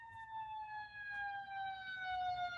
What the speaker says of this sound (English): Oh, that ambulance.